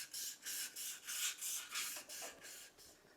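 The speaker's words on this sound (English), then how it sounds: "I'm just using a bit of this 1000 grit wet and dry just to clean it up on the inside" Wet-and-dry abrasive paper, 1000 grit, rubbed around the inside of a machined engine piston for a hit and miss engine, giving steady rhythmic scrubbing strokes, about nine close, even passes with no talking.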